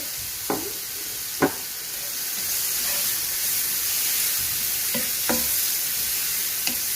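Golden fried onions stirred into liver masala (kaleji) frying in a pan, a steady sizzle with a few sharp scrapes and clinks of the spoon spaced across it, close and moderately loud, no voices.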